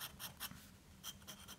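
A dip pen nib scratching lines and dense cross hatches on paper, short quick rhythmic strokes in two bursts with a brief pause between, close and quiet with no voices.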